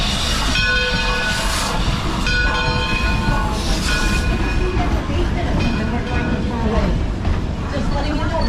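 A narrated village tour train ride with rolling rumble and wheel noise, rising tonal squeals or horn-like tones in the first seconds, and a voice talking over the steady movement.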